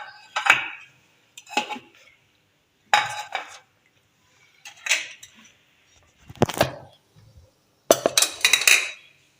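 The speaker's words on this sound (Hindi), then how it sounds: "आलू मिक्स करेंगे हम इसको अच्छे से।" Medium-sized boiled potatoes being mixed in a bowl for Russian salad, with six separate bursts of spoon-on-bowl clinks and scraping spaced by short pauses, close and clear with no talk.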